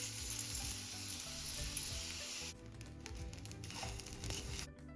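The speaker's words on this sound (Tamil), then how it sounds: "உளுந்தும் நல்லா மணம் வர்ற வரைக்கும் வறுத்து எடுத்துக்கணும்" Black urad dal dry roasts in a pan, giving off a soft, steady sizzling and rustling with light scraping as it is stirred, fairly quiet and alone, with a brief drop in the middle before it resumes.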